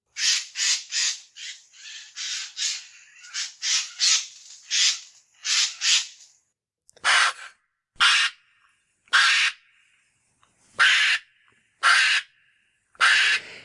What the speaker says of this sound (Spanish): ese graznido, por llamarlo así, pertenece a un córvido, pertenece al arrendajo.